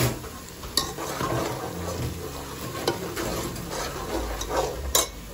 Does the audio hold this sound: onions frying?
yes